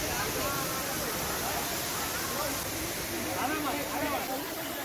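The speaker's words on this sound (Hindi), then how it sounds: "ये लोनावला लेक के सामने का वाटरफॉल।" Steady broadband rush of a waterfall across from Lonavala lake during the monsoon, continuous and fairly distant, with people's voices faintly mixed into the wash.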